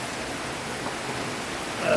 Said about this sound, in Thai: ฝนตกฝนตก ฝนตกฝนตก